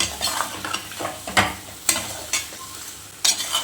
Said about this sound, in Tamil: கறியை நல்லா ஆட் பண்ணிட்டோம். இப்போ நல்லா கிண்ட வேண்டியதான்.